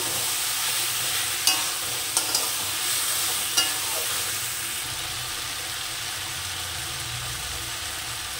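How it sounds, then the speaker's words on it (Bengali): Ash gourd curry is stirred and fried in a pan, giving a continuous close sizzle with a few scraping knocks of the spoon early on. No voices are heard. "এবার এটা সুন্দর করে নেড়ে চেড়ে বেশ খানিকক্ষণ রান্না করতে হবে"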